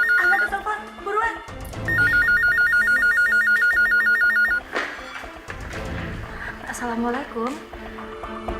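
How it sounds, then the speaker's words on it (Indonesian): A telephone rings repeatedly in an indoor drama scene, its bright electronic trill pulsing steadily for a few seconds among background music and a scolding voice, with people talking around it. "Angkat tuh telepon, buruan."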